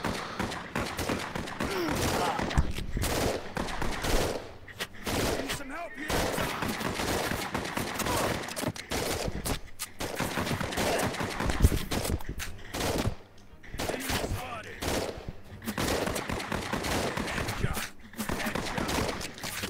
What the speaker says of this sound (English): with this barrage of bullets, I'm really not feeling like I've got to move very often